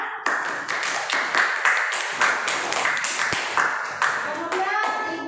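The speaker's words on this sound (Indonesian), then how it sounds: "tepuk tangan bersama untuk kita" Students clap together in a classroom, a run of sharp rhythmic hand claps at steady pace, fairly close and loud, with children's voices mixed in.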